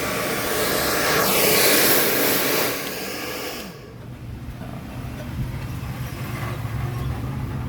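A steady loud blowing roar from a handheld heat blower removing an old, firmly stuck sticker runs throughout, dipping briefly midway before continuing at a slightly lower level.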